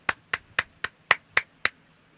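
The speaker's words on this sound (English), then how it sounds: "we're going to applaud" Seven sharp, evenly spaced claps sound close and fairly loud at a UCL Healthcare Engineering science showcase, then stop. It sounds like one or a few people clapping rather than a large audience.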